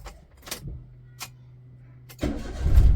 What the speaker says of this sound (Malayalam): ഞാനിപ്പോൾ വണ്ടി സ്റ്റാർട്ട് ചെയ്തു